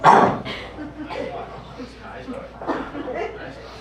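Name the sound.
audience imitating a barking dog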